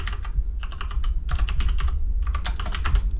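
Clicky computer keyboard typing in quick bursts of keystrokes, close and clear, with a short pause partway through, during a JavaScript coding tutorial.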